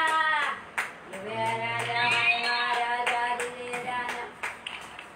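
A church congregation claps loudly in praise during a Telugu sermon, sharp bursts of hand claps landing over sustained music-like tones, irregular and fairly close.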